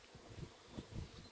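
Honeybees left behind from a swarm buzz in a brief, quiet, steady drone with a few small swells, close and alone.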